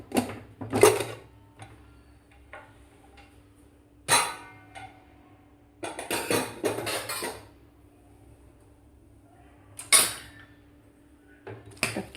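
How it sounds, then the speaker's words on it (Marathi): A cooled pressure cooker holding wheat kheer is opened after its whistles, with several sharp metallic clanks and clatters of the lid and pot spaced apart in an otherwise quiet kitchen. "आपण झाकण काढूया. कुकर थंड झालेला आहे."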